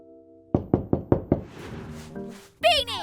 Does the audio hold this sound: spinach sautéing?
no